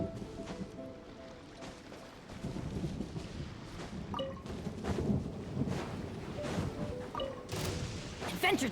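Lightning strike and rumbling thunder in the Genshin Impact video game, a continuous low rolling boom with crackling bursts, heard under game sounds and a faint voice.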